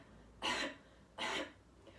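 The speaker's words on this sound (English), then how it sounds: "just do a few little coughs" Two short, breathy coughs spaced about a second apart, close and fairly loud, with quiet pauses around them.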